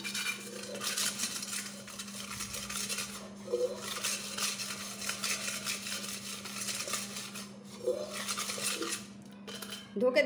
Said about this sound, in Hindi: इसको धो के देखते हैं।